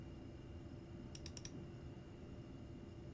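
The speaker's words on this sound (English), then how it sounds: "Like I'm clicking, that's probably what you're hearing." A computer mouse clicks during an online chess game: a quick, faint run of about four clicks in a quiet room over a low background hum.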